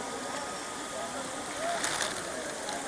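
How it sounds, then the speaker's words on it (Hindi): A huge waterfall on Brahmagiri mountain in India plunges from high overhead, giving a steady, even wash of falling water that runs unbroken beneath a voice. "बिल्कुल मेरे सिर के ऊपर ये विशाल झरना ऊपर से पानी गिर रहा है।"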